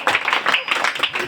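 An audience claps at an Independence Day festival: a short, close burst of dense, uneven hand claps that keeps a steady level throughout.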